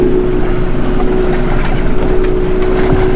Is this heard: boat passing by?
yes